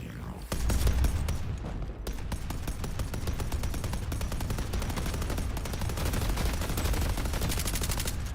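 Rapid automatic gunfire from turrets in a video game, steady and dense bursts running continuously at fairly loud level with game sounds mixed in.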